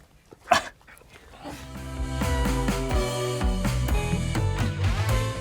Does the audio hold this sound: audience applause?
no